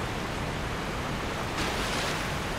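A waterfall in the video game Elden Ring pours with a steady, dense roar of rushing water that stays loud and continuous throughout, growing slightly brighter toward the end, with no voices.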